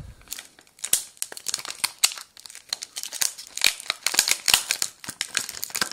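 A Panini Champions League sticker blister pack being opened, with close, busy crinkling and crackling of plastic and foil, irregular sharp rustles and tearing, no talk.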